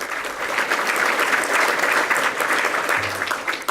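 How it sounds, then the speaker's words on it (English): Dense audience applause after a talk by a city technology commissioner and CIO, loud and continuous from start to finish with no voices over it. "Big round of applause."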